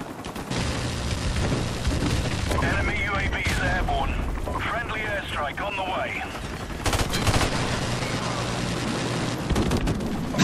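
Video game airstrike sets off a dense run of loud explosions and rattling gunfire, layered with game speech and a voice, with a heavier burst of blasts near the end.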